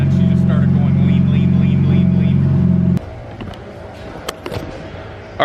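A turbocharged B16 engine in an EG Honda Civic coupe roars at sustained high revs during a dyno pull, loud and steady, then cuts off abruptly halfway through, leaving a quieter background of shop noise and scattered clatter.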